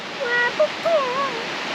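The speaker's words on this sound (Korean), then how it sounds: "저 높은 곳에서 계속 물이 떨어지네" Water drops from a high cliff at Plitvice Lakes in Croatia, a steady broadband rush that runs under a few excited voices.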